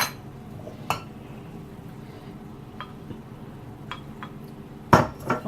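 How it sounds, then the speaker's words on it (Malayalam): A small teaspoon of cornflour is stirred into water in a bowl, giving a few sparse, quiet clinks of metal against the bowl, with faint ticks between them over a low kitchen background. "ഒരു ബൗളിലോട്ട് ഒരു ചെറിയ ടീസ്പൂൺ കോൺഫ്ലവർ വെള്ളത്തിൽ കലക്കിയിട്ട്"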